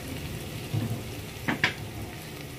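Garlic frying in a pan for a mixed vegetable dish, with a soft steady sizzle broken by a few brief stirring scrapes and clinks up close.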